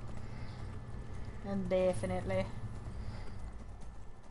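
Horse hooves in Skyrim clip-clop at a quick pace through the middle stretch, partly masked by voices talking over steady game background.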